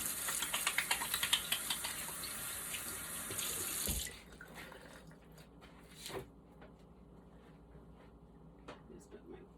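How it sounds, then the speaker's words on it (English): Running tap water at a kitchen sink while hands are rinsed of butter and flour: a steady, loud stream for about four seconds, then the tap shuts off, leaving faint clinks and small handling noises. "Then we're going to do another hand wash because I've got butter and flour on my hands."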